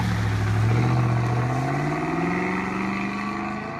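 A Volkswagen Passat W8 engine paired with a long automatic gearbox, recorded from outside, pulling steadily with a rising engine note that climbs through a shift, moderately loud and unaccompanied by talk.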